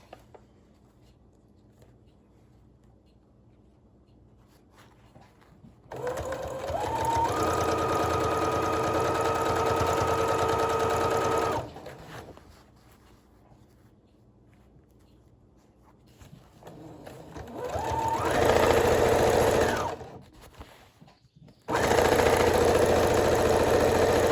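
A sewing machine stitches a box cushion cover seam at a half-inch allowance, running in two sustained bursts of steady motor whirr and rapid needle clatter separated by pauses of quiet.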